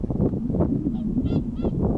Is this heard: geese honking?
yes